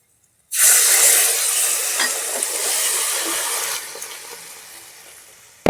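Chana masala spices hitting a hot pan burst into a loud, hissing sizzle that starts abruptly and then slowly fades as stirring continues.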